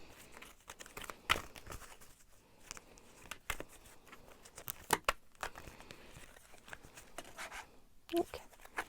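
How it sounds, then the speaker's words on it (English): Archetype oracle cards being shuffled by hand: irregular papery slaps and crinkly riffles, several sharp bursts spaced through the passage, close and fairly quiet, with a soft voice in the background. "I'm actually gonna shuffle some of these archetype cards"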